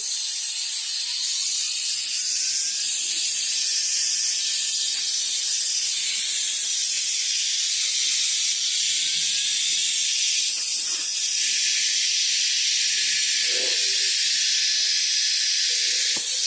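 A Keelat KMTF01S electric blower runs continuously with a loud, steady high-pitched rushing hiss and airy whine, close up, with a few faint clatters underneath and no talk.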